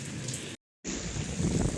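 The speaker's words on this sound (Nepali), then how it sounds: "यत्रो असिना छ हेर्नुहोस् गाइसहरू ल" Hail and rain fall steadily outside a home, a close, continuous patter of drops cut by a brief moment of total silence before the pattering resumes, with no voices.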